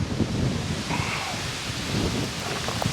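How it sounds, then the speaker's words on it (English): Wind gusts across a lakeshore campsite on a solo canoe trip, a steady broadband rush buffeting the microphone with low rumbling thumps, continuous and fairly close throughout. "It's windy too, so if that catches the microphone."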